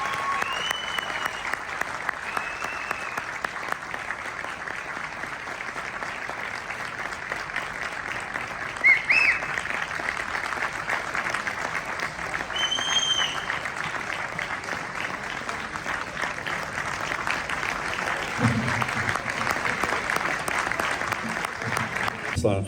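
An audience applauds at a gift presentation with sustained, dense clapping that holds at an even level for over twenty seconds. A few faint voices and whistles rise briefly above it.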